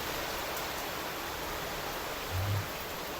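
Heavy rain falls over a residential society in Vadodara as a soft, even hiss. The sound is steady and fairly faint, with a brief low thump near the end.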